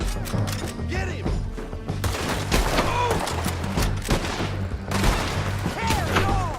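A chaotic shootout in Red Dead Redemption 2, with dense overlapping gunshots and rapid fire going on continuously, loud and close, mixed with shouting voices and game sounds.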